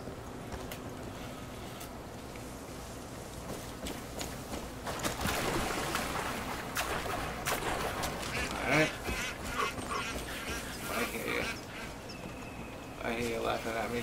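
Ducks quacking in the video game Far Cry 5, repeated calls over a steady bed of game ambience with water, with a voice talking across much of it.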